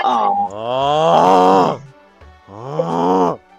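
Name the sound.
voice imitating snoring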